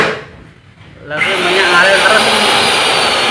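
A pipe threading machine starts up and runs steadily, a loud continuous motorized whir and grinding as it cuts threads into iron pipe, after a brief quieter moment with a spoken word.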